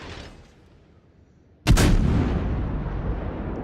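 A single heavy ship's gun blast in a naval battle video game fires suddenly after a quiet stretch, then rolls into a long, loud booming rumble that slowly fades.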